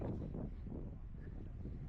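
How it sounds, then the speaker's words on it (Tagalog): Steady wind buffeting the microphone at a cherry blossom spot in Miyagi, Japan, a low, constant rumbling roar with no voices. "Kasi sobrang windy."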